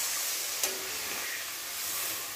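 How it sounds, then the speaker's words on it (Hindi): Water being poured into a hot pan of masoor dal sabzi gives a steady, hissing, steam-like sizzle that runs unbroken through the whole stretch at moderate loudness, with no talk over it. "देखिए एक गिलास हम इसमें पानी डाल रहे हैं"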